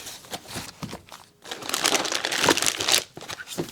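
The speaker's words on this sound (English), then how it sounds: "The gun, which is sealed in a plastic bag, so I'll have to get into that." A plastic bag sealing a new ATI FX45 1911 pistol crinkles and crackles close up, irregular rustling bursts swelling into a longer loud crumpling stretch before settling into a few softer crinkles.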